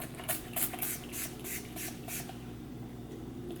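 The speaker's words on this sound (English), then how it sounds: "Okay, first spray." A perfume spray bottle mists in a run of about eight quick, sharp hissing puffs close by, followed by a quieter room hum, with no talking.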